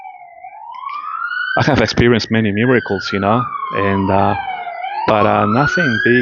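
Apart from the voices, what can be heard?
sirens of emergency vehicles going past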